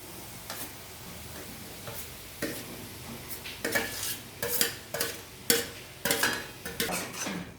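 Grated paneer stirred into masala frying in oil in a pan, gentle sizzle with a run of spoon scrapes and taps that grow louder and more frequent, close and without talk.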